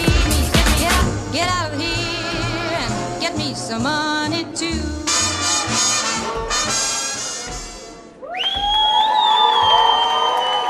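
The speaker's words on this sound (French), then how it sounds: "On l'applaudit bien fort, mesdames et messieurs" A festival crowd at a francophonie celebration cheers and whoops after a performance, with loud shouts and high cries over lingering music, swelling again strongly near the end.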